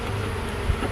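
Honey bees buzzing close by during an end-of-May hive inspection, a continuous droning hum at steady loudness with no talk.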